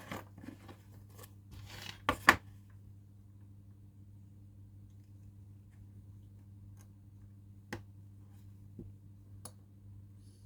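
Small clipping and scraping sounds from trimming a handmade model railway track piece, a few soft close snips and ticks clustered early, then sparse isolated clicks in a quiet room.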